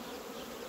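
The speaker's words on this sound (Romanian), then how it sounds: "Iată, vedeți aici ce de albinuți." Honeybees crowd a hive frame in a steady, close, continuous buzz that hums on without any break, with no voices over it.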